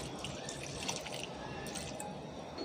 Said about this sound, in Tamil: இதில் நம்ம கொஞ்சமாக தண்ணி சேர்த்துக்கோங்க